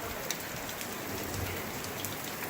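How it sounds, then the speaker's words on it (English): Steady, dense rain falls on the Appalachian Trail in the White Mountains near Ethan Pond, making a continuous close hiss of drops with no voices. "Very rainy."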